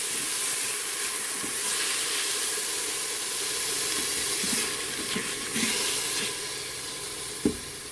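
Capsicum and broccoli slaw mixture frying in hot oil in an Instant Pot gives a steady soft hiss of sizzling, with a few faint clinks and stirring sounds near the end.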